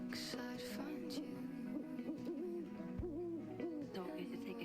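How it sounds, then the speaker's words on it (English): Owl hooting in the video game Life is Strange: Double Exposure, a few soft hoots set against steady game music with a sung melody running throughout. "Oh, an owl."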